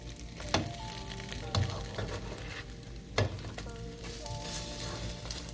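French toast fries in a pan after being flipped, a steady crackling sizzle throughout, broken by a few sharp utensil taps against the pan.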